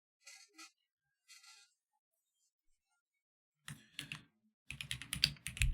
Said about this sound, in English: I'm typing in the name of the series, not the name of the book.